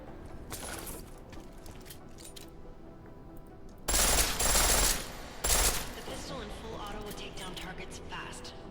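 Full-auto gunfire in the video game Deus Ex Mankind Divided: a brief burst early, then a loud sustained rattle of about a second followed by a shorter burst, over a steady low background.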